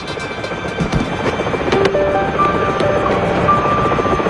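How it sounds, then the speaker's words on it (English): A cartoon helicopter's steady rotor and engine drone fills the scene, broadband and continuous, with a few faint chirpy electronic tones over it, in Transformers Rescue Bots. "Another thrilling rescue by Danny Burns and her helicopter bot"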